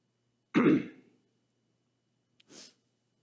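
A pastor coughs during a Sunday worship service at a Presbyterian church: one sharp, loud throat-clearing cough that fades out, then after a pause a second, brief and fainter cough, with silence otherwise.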